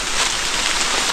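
Steady, dense hiss of rain falling in a jungle at night, close and even throughout with no breaks or voices.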